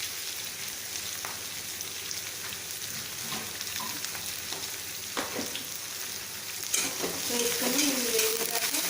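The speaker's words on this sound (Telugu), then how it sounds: "కొంచెం సిమ్లో పెట్టుకుంటే అది బ్రౌన్ కలర్ వచ్చేదాకా వేగాలి" Potato upma curry sizzles steadily in a pan as a spoon stirs and scrapes through it, with a continuous close frying hiss and occasional clinks and scrapes that grow busier toward the end.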